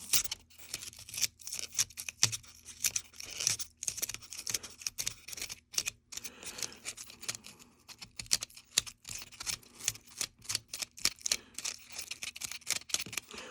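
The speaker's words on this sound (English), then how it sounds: "cut out some of the foam in the bottom here to make space for the top of that bolt" Foam is cut out by hand close up, giving a quiet, irregular series of crisp snips, tearing scratches and small clicks with short pauses between them.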